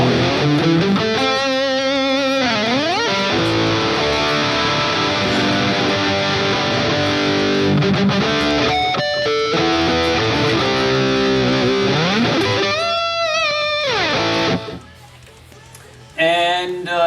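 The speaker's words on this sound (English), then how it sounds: "So this is the dry sound." Electric guitar played through the Neural DSP Plini Archetype plugin with reverb and delay turned off and overdrive on, giving a crunchy, lightly distorted tone in chords and runs, loud and close, ending with a brief pause and a final strum.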